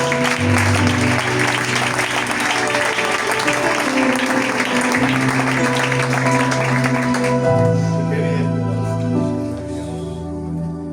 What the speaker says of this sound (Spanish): ¿Cuánto dan un fuerte aplauso a nuestro Dios?